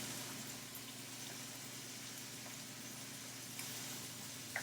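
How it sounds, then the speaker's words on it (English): Ground beef sizzles as it drops into a pan of sauteing onions, a steady broadband hiss and crackle holding an even level throughout with a couple of faint pops, no one speaking over it. "now we'll just add our ground beef"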